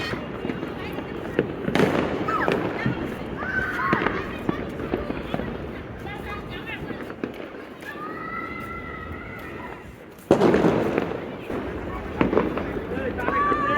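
New Year fireworks in Gulshan, Dhaka, crack and pop repeatedly through the night air, with loud nearby bursts near the start and again later, mixed with a distant siren and people talking.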